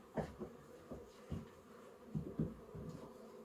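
Quiet, low buzzing of honey bees close by at an open hive, with irregular soft swells as insects pass near, over a faint background hum.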